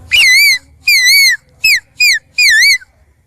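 A high, sliding whistled call, repeated five times in short phrases, voiced by a person imitating a koel bird; no talking.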